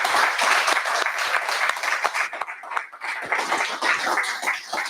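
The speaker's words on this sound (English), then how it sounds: "let's give a round of applause to our panelists." An audience at a fireside chat on accelerator fundraising applauds the panelists, giving a dense, loud round of clapping that holds steady across the whole stretch and dips briefly midway.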